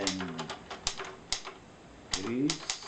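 Keys clack on a 1936 Hermes Baby vintage typewriter in close, uneven bursts of sharp strikes, with a voice speaking German at the start and near the end.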